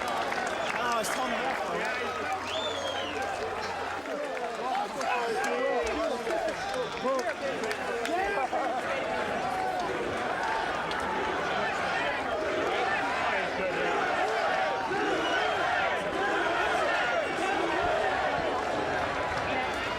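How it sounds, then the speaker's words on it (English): Boxing arena crowd chanting USA after a world title fight victory, a loud, sustained roar of many voices with rhythmic chanting throughout, a commentator talking over it. "The chants of USA from the crowd here celebrating Jeff Lacy's victory"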